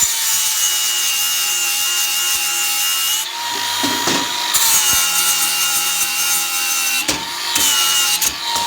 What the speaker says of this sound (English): So let's just grab the grinder over here. We'll just flatten those off.